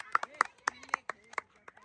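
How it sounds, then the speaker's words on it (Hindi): A small group of people claps for a player named Maharaj during a casual cricket challenge: about eight separate, sharp hand claps in an uneven rhythm, close by and fairly crisp, with gaps of quiet between them. "तो महाराज के लिए तालियां बज गई है।"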